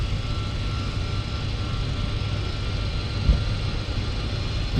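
Airliner engines spooling at takeoff thrust in the X-Plane flight simulator, a steady loud roar with a low hum and hiss that holds even throughout.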